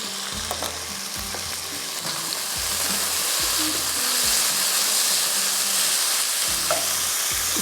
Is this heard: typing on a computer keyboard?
no